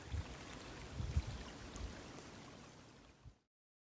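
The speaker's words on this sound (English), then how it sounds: "nice little creek crossing." A small creek flows at a trail crossing in a forest, a soft steady gurgle and wash of water that continues alone before cutting off.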